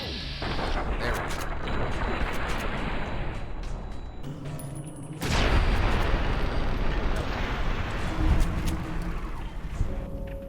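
A demolition charge detonates in Fallout: New Vegas, a heavy booming blast that erupts into a long, loud rumble after a stretch of steady noisy game sound, with a further thump afterward.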